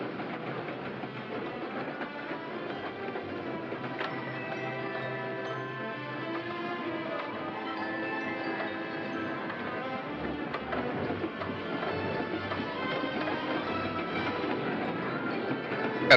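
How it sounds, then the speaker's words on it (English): A Key System electric train rolls into the Bay Bridge terminal, a steady rumbling run with metallic squeals and faint clatter of wheels over track, continuous and fairly close for the whole stretch. "Here's our train, heading into the terminal."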